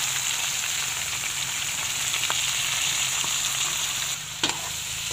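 Fresh squid frying in a pan, a steady loud hiss and crackle close by, with a few sharp clinks near the end and no voices.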